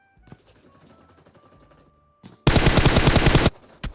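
Automatic gunfire in the PUBG Mobile video game: a loud, dense burst of rapid shots lasting about a second, standing out sharply from quieter background game sounds and faint chatter before it.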